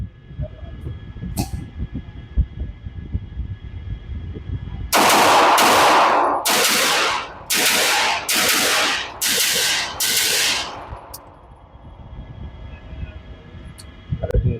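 Rapid string of about six loud gunshots fired in quick succession at an outdoor shooting range, each a sharp broadband crack with short decay, preceded and followed by quieter ambient noise and faint handling sounds.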